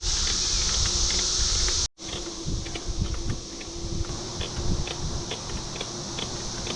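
Cicadas buzz in a loud, continuous high drone along a wooded bike trail, cutting out briefly before resuming, with some faint rustling and wind underneath.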